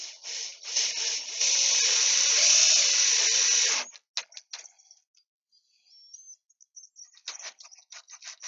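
A high-pitched power drill whines steadily for a few seconds, boring a hole in scrap wood for a small birdhouse, then stops, followed by scattered light clicks and taps.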